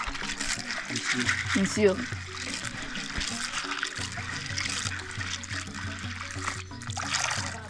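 Food being washed by hand in a basin of water outdoors in a Ghanaian village kitchen, with steady splashing and trickling close by under ongoing talk and background music.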